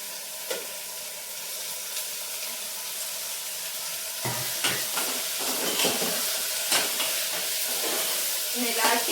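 Capsicum sizzles and fries in hot oil in a home kitchen pan, a steady close hiss with occasional stirring clatters and a few brief spoken words over it.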